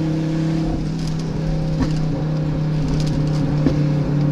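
A turbocharged Fiat Marea engine drones steadily at close range while accelerating at night, with a low rumbling tone and a few sharp pops and crackles breaking through.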